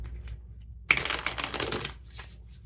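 Tarot cards are shuffled in a brisk, papery riffle lasting about a second, followed by a softer rustle. It is close and fairly quiet, with no talking.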